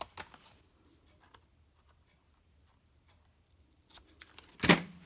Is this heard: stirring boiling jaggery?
no